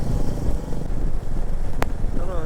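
Royal Enfield Bullet motorcycles riding on a Bhaktapur to Tatopani road trip, a steady low engine rumble with wind buffeting the microphone and a brief sharp click partway through.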